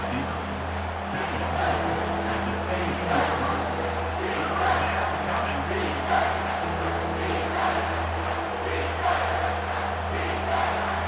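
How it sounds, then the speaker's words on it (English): A roaring stadium crowd in College Football 25 at a Georgia Tech versus Utah game. The broad, sustained roar holds steady for the whole stretch under a low hum, with swells of cheering. "3rd down, and this crowd is bringing down the house"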